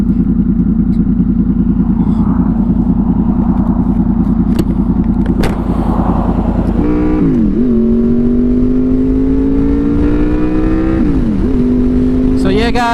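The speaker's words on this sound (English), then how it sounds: "Oh, it's traffic, man." Passing road traffic heard from a Honda VFR800 motorcycle while riding: a loud, steady engine drone with a rising, shifting whine as vehicles and the bike move through traffic, with wind rumble throughout.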